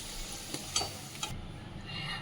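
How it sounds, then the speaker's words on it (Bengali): Onions frying in a pan for egg biryani give a soft, steady sizzle with a few light stirring scrapes near the start, fading slightly toward the end, with no talking. "সেটাকে কেটে আমি এবারে বেরেস্তাটা ভাজছি, পেঁয়াজটা ভেজে নিচ্ছি"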